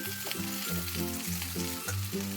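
Susuni greens (water clover) fry in a pan with steady, close sizzling and stirring, no voices present.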